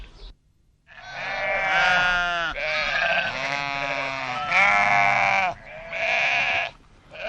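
A big herd of ewes and goats kept by Atlas mountain nomads bleats close up, loud overlapping wavering cries coming in four long bursts separated by short breaks.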